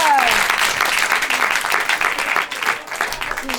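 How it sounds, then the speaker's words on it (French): An audience at a Paris improv theatre festival applauds the performers, with dense, lively clapping throughout and a voice speaking briefly over it at the start. "Alors, oui, on peut les applaudir."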